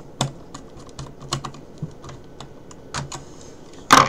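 Screwdriver work tightening a wire into a fire alarm strobe or horn terminal: a run of small, sharp clicks and ticks at an irregular pace, close up, ending in a louder clatter, no voices.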